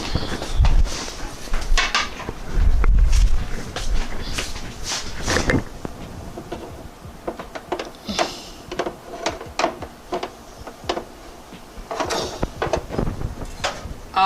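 Metal racks of chicken clatter and scrape as they slide into an air fryer oven, with a series of loud clanks early on followed by lighter rattles and clicks, no talk.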